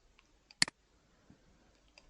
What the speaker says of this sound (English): So if I double click